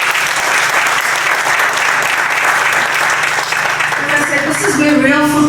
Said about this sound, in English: So a big round of applause again for what